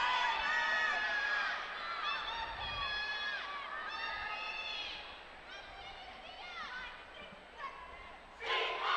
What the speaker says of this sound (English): Opening up with a crowd cheer with some signs.